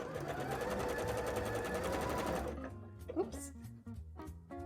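A sewing machine whirs in a steady fast run while stitching a Garbodor costume bra, then stops, leaving a voice talking over soft handling sounds.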